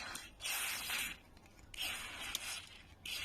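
Aerosol lubricant hisses into a car ignition key lock on a Land Rover Discovery TD5 in two long, steady bursts with a short pause between them, close and fairly quiet.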